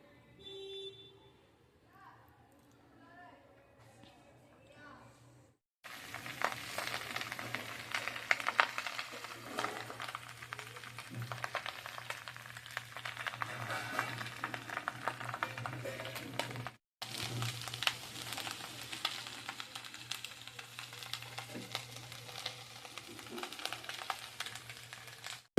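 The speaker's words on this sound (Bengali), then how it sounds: "ভাত ভাজবো এগুলো দিয়ে।" Rice frying in a pan, a steady hissing sizzle with stirring scrapes that starts abruptly after a quiet opening and continues at moderate loudness, with a short break before resuming.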